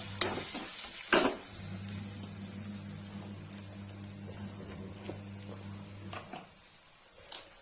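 Ground tomato stirred into masala in a pan while cooking Kashmiri rajma with turnip, a soft sizzle with scraping spoon strokes and a steady low hum underneath.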